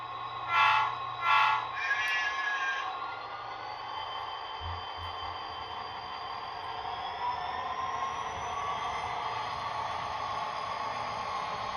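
A Scale Trains operator model locomotive hauls a 40-car train, rumbling and clicking steadily along the track, with a couple of brief horn-like toots near the start before the running noise continues alone.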